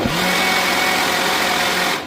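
A blender purees hot homemade tomato soup with the lid held down, running as a loud, steady motor whir for about two seconds before cutting off at the end.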